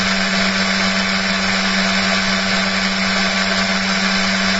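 A direct drive motor spins steadily at around 5,768 RPM, giving a loud, constant whirring hum with a strong low tone and broadband whine throughout, no pauses or talk.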